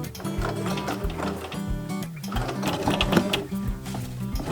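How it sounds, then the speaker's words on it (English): A sewing machine runs in short stitching bursts while attaching a motif to a leopard-print vest, its rhythmic mechanical chatter close and steady, with brief pauses between runs. "I usually start the stitching really slowly so that I can get my motif attached to the piece"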